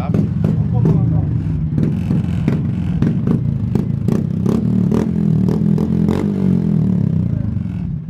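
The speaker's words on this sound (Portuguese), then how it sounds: "Barulho da moto. Ah, originalzinha, só escapamento." A Honda Biz 125 motorcycle engine with stock exhaust runs at a steady idle with a rapid, putt-putt rhythm, accompanied by sharp mechanical clicks and clatter close by.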